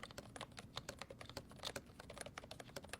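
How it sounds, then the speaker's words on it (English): Quick, soft keystrokes come from a pink Aula S99 membrane keyboard. The typing is a steady, dense patter of quiet, muted taps, heard close up with no voices. "the reason why the Aula S99 is so quiet is because this is a membrane style keyboard"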